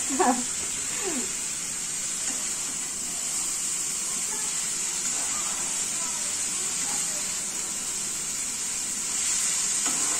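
Chicken spring roll filling cooking in a pan on high flame, giving a constant, even hiss of sizzling with a brief stirring scrape at the start, close and steady throughout, no talk.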